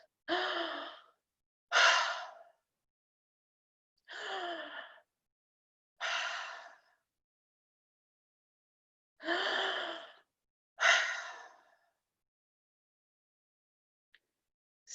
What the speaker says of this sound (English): Snap also could use his mouth to take 3 deep breaths.